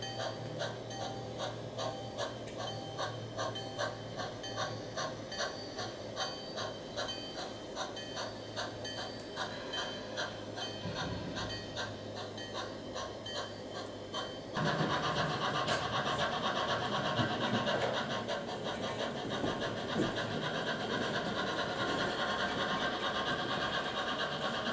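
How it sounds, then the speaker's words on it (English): A model train clatters in a rapid, rhythmic clicking over rails, steady and close, growing louder and busier partway through as it rolls over a trestle bridge. "Train 10 crosses the Dry Creek Trestle"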